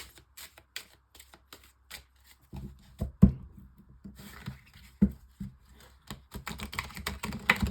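Oracle cards are shuffled and handled by hand in a quick, crisp series of riffling taps and flicks, close and fairly quiet, with short pauses between bursts.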